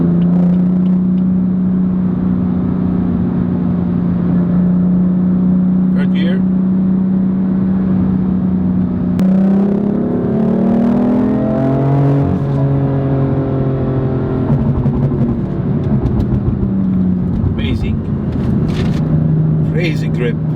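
BMW M4 LCI Competition engine droning steadily while driving, then burbling and rising through a downshift before settling again, loud and close inside the cabin.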